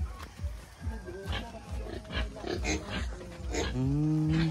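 A pig squeals and grunts in a rural barnyard setting in Balingoan, Misamis Oriental, a run of loud repeated rhythmic cries ending in a sustained high squeal, close by.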